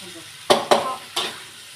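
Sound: stir-frying in a wok

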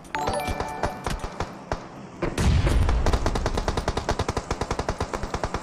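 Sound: gunfire in a video game

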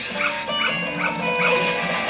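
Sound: dog barking in The Legend of Zelda: Majora's Mask video game

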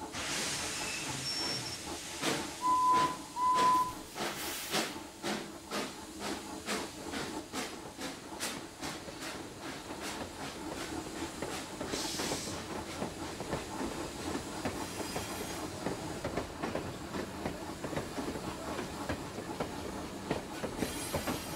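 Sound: steam train puffing away on rails

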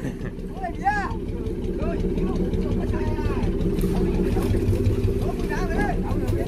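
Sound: small fishing boat engine running

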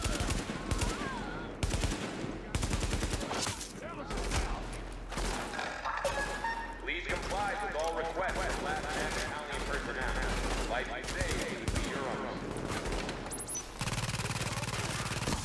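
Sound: sniper rifle gunfire in The Division video game

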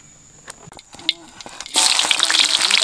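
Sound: frying garlic in a wok

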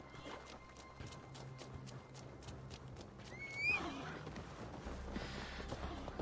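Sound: horse neighing in video game Assassin's Creed Valhalla

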